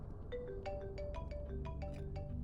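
Phone ringing in the horror video game Beneath Light, a melodic ringtone of quick stepped electronic tones repeating steadily over a low rumbling ambient drone, moderately loud with no voices.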